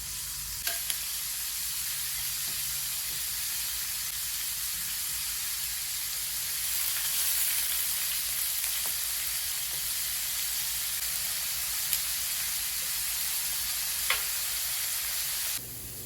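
Shrimp sizzle on a hot indoor grill, a steady loud frying hiss throughout with a few small pops and taps.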